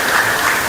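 Applause at an ODM national governing council meeting in Nairobi, a dense, steady crowd clapping that is loud and close through the whole brief moment.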